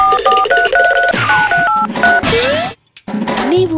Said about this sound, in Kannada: ಒಂದು ಫೋನ್ ಮಾಡುವ